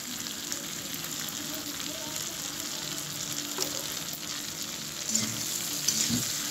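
Okra with onion cooking in a pan on low heat, a steady frying sizzle with occasional stirring scrapes that grow a little louder toward the end.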